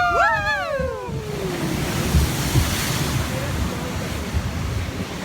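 Rushing water and surf-like splashing on a Magic Kingdom water ride fill the clip, with wind noise and a rising whistle-like tone fading early; a loud, continuous wash throughout.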